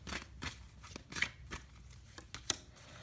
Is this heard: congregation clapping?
no